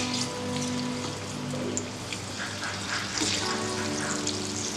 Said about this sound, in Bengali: বড়াগুলো এবার একটু উল্টে দেব। উল্টে পাল্টে কিন্তু লাল লাল করে ভেজে নিতে হবে।